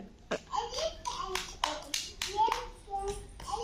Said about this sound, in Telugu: క్లాప్స్ కొట్టండి అందరు క్లాప్స్ కొట్టండి